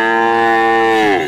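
A native-breed heifer lows at a busy rural cattle market in Mahadevpur, Naogaon, one long loud moo that holds steady and then bends downward at the end, close and alone.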